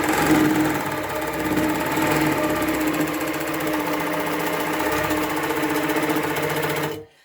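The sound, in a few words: longarm quilting machine stitching along a ruler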